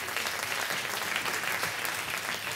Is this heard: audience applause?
yes